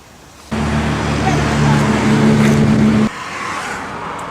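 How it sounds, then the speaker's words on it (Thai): A car drives steadily along a road, a loud, close engine drone with a steady low hum that runs for a few seconds and then cuts off abruptly, leaving a quieter background. "กำลังขับรถสบายๆเลย"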